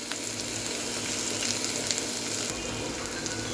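Chopped garlic hitting a pan of frying onions and green chillies, with a constant close sizzle and light crackling that holds steady throughout.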